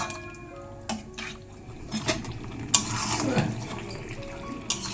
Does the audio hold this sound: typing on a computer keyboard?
no